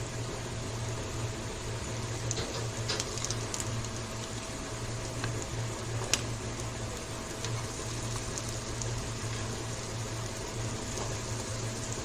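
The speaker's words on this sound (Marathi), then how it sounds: "कटलेट दोन मिनिटांसाठी आपण फ्राय करून घेऊया" Potato cutlets for a fasting meal shallow frying in a pan, a soft steady sizzle with a low constant hum and a few faint clicks, no talking.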